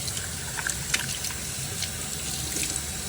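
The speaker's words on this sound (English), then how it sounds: "turning on the sink. The cold water on the sink." Cold water runs from a sink faucet in a steady, close hiss of flowing water, even and unbroken, with faint clinks in the background.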